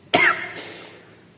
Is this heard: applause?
no